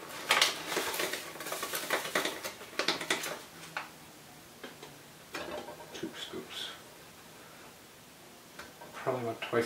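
Ground coffee is scooped into a Drip-O-Lator coffee pot: close metallic clinks, scrapes and rattles arrive in clusters, with quieter gaps and a soft voice now and then.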